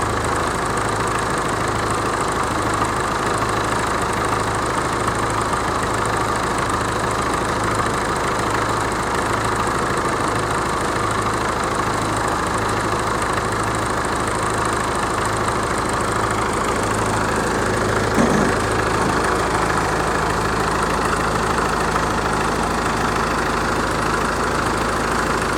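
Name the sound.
standby generator engine idling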